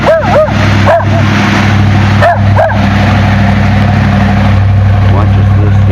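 A dog barks in short bursts of several yelps at passing boats on a waterside bank, loud and close over a steady engine drone and wind.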